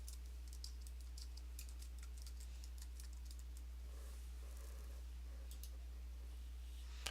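Light, irregular keyboard clicks from typing on a computer, fairly faint over a steady low electrical hum, with scattered bursts of keystrokes and short pauses.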